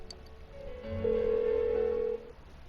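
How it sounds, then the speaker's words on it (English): A single long electronic telephone ring tone sounds in a Persona 4 video game scene, a steady sustained tone going unanswered over a faint low background. "Why won't she pick up the phone?"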